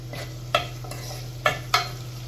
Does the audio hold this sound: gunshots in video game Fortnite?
no